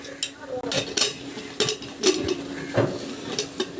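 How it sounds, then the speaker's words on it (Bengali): A pressure cooker lid is fitted and shut, with several short metallic clanks and scrapes close by. "আপনারা প্রেশার কুকারের মুখটা আটকিয়ে"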